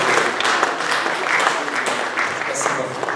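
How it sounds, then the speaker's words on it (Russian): Congregation in a Kyiv church service breaks into applause, brisk dense clapping filling the room throughout, with some voices mixed underneath. "Аплодисменты Отцу, Сыну и Святому Духу нашему"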